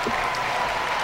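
Crowd applause at a 1998 Commonwealth Games men's gymnastics final, a dense, steady wash of clapping filling the hall with a faint voice underneath.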